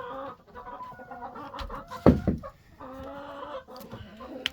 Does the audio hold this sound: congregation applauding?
no